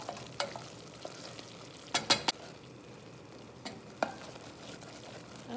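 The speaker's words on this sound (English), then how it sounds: "So I stirred in my almonds." A spoon stirs almonds into hot toffee cooking in a pan. There is a quiet bubbling sizzle with a few sharp scrapes and clicks against the pan, and no one speaks.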